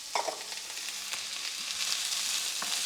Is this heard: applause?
no